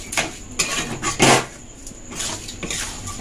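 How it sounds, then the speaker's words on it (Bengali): Semolina and sugar being stirred in a pan, with repeated scraping and clinking strokes of a utensil against the metal at an uneven pace, close by and moderately loud, without any talking. "এটাকে এবার নেড়ে যেতে হবে ভালোভাবে, নালে নিচে ধরে যাবে।"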